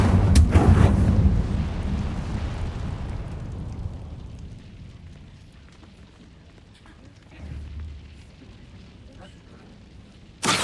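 Incendio fire spell cast in a Hufflepuff quest video game: a loud, booming fiery burst at the start that rumbles and fades over several seconds, then a softer low whoosh and another sharp burst at the end.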